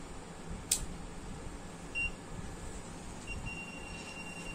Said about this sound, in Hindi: देखिए गाइस ये बीप भी करने लगी हो और एक लाइट ब्लिंक करने लगी है